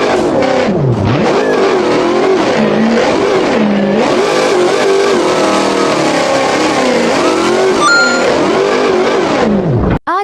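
Jeep Wrangler engine revving hard during off-road driving, loud and close with rising and falling pitch over continuous strain, cutting off abruptly at the end.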